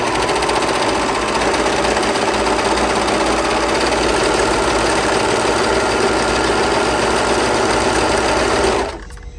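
Serger running fast while sewing a rolled edge on white fabric, a loud, steady, close mechanical hum and whir that holds evenly for several seconds and then stops abruptly.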